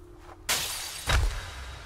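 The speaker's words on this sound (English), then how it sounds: "That sounded like glass." Glass shatters in the game GRIS, a sudden bright crash followed by a second heavier smash and a soft tinkling decay, loud and close with no talking.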